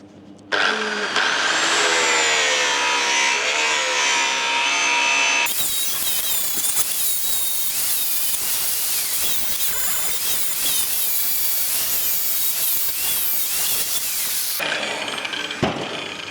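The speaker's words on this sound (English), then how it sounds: "I'm just using a flap disc on this now" A worn flap disc on a grinder rounds off sharp metal edges, a loud continuous whine that shifts pitch and turns to harsher rasping grinding midway, running almost the whole time.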